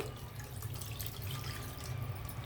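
Water is poured into a pan of simmering village-style chicken curry with fenugreek leaves, giving a steady splashing, trickling pour throughout, fairly close and unaccompanied by speech.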